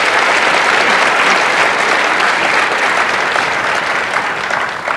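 Steady applause from an audience fills the whole stretch, a dense, continuous patter of many hands clapping that fades slightly at the very end.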